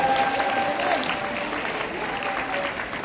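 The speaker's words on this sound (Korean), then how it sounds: "여러분 감사의 박수를 보내주시기 바랍니다" A church audience at an event in a Seoul tower hall applauds to thank a pastor, giving a dense, continuous round of clapping that stays fairly loud and even throughout, with faint crowd murmur beneath.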